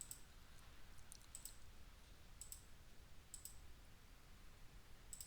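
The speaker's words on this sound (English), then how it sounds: "Okay, we are clicking all the way." Computer mouse clicks while tracing a selection with the free select tool in GIMP: sharp, faint clicks spaced at irregular intervals of roughly a second, over a steady low background hum, with no talking.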